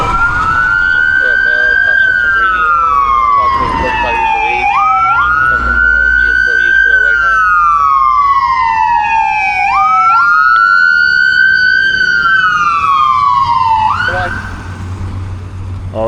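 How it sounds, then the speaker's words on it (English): An ambulance siren on a Los Angeles street at night wails loudly and close by, sweeping up and down in long repeating cycles for about fifteen seconds, with a voice faintly underneath. "Here's the ambulance."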